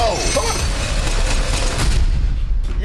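Dense gunfire and booming blasts from the Mindcage (2022) movie trailer, a continuous loud barrage of shots and impacts with a voice faintly mixed beneath.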